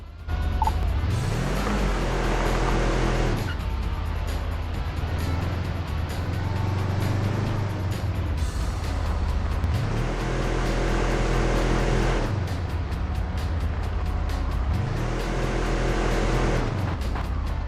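An off-road UTV in a video game drives over rough terrain. Its engine climbs in pitch, drops at each gear change and climbs again in repeated sweeps, loud and continuous with no talk.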